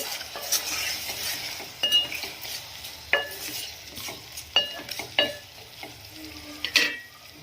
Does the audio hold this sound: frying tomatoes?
yes